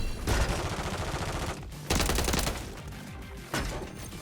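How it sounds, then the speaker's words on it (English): Striker submachine gun in Modern Warfare 3 fires in loud, close, rapid bursts, three separate volleys with short gaps between them, each a dense rattling stream of shots with heavy low-end punch and no talking. "we got a submachine gun. And we're gunning them at range."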